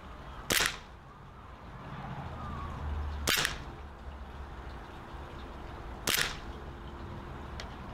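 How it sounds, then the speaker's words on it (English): A WE G17 gas blowback airsoft pistol firing BBs, three sharp, loud cracking shots spaced about three seconds apart over low background rumble, with no talk. "we'll leave .30 grain BBs behind and shoot three sixes"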